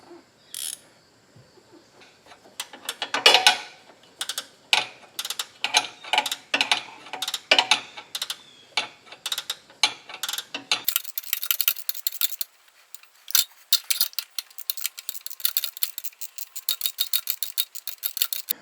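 A ratcheting wrench clicks as it works a bolt loose on a 5th generation Subaru Outback, with close, uneven bursts of rapid ratchet ticks, pausing between strokes, then a sharper, brighter run of clicks toward the end.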